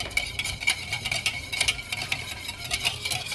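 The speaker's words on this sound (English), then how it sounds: "Whisk it in" Melted butter is whisked into eggs in a bowl for a baked mac and cheese custard, with rapid, rhythmic close ticking strokes of the whisk repeating evenly throughout and no speech.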